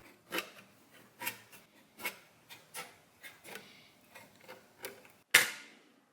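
Tin snips cutting through sheet metal, a run of about a dozen crisp, evenly spaced crunching snips up close, finishing with one louder sharp clack.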